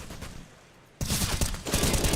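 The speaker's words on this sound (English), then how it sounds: "he's not shy with his bullets, is he? Just constantly peppering" Rapid automatic gunfire in a Counter-Strike esports match bursts in suddenly after a quieter lead-in, dense and loud, with overlapping shots and no voices.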